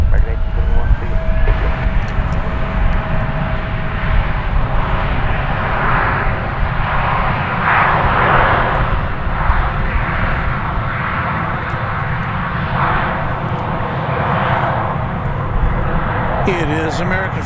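An American Airlines Airbus A321 jet takes off from DFW Airport, bound for Denver: a loud, steady roar of jet engines building and sustaining throughout, with a radio-like voice speaking over it.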